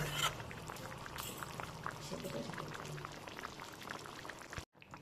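Potato, cauliflower and peas bubble in a boiling pot on the stove, making a faint, continuous burble of simmering water for several seconds before it cuts off.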